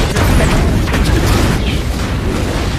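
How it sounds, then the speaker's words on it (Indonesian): A film explosion from burning chemicals after a shootout, a sustained loud roaring blast with dense rumbling and crackle filling the whole span. "terjadi ledakan akibat terbakarnya cairan kimia pasca baku tembak yang terjadi"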